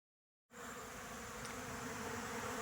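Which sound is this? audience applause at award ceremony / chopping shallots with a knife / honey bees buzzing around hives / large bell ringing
honey bees buzzing around hives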